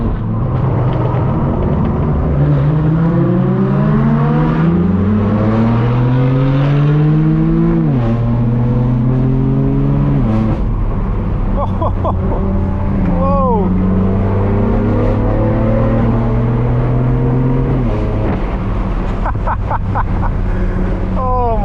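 Several Lamborghini exhausts rev hard one after another, rising and falling in loud, rasping sweeps with sharp pops, close by and continuous.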